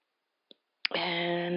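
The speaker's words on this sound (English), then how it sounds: "And that's me grabbing my keyboard" A brief soft click, then the clatter of a computer keyboard being picked up, followed by a steady sustained hum.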